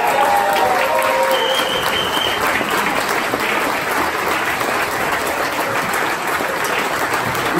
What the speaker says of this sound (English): applause for Ryan Truesdell,